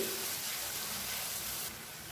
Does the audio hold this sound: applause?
no